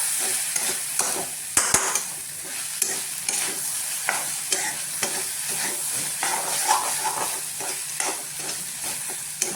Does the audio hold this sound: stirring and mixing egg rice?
yes